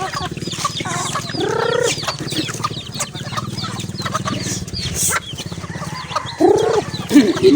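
Chickens clucking and squawking close by as they are fed outdoors, a steady busy chatter with louder bursts near the end and a possible rooster call among them.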